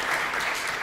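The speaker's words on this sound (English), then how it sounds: "Double applause." Dense, steady applause from a conference audience at the close of a summer school session, filling the whole moment without a break.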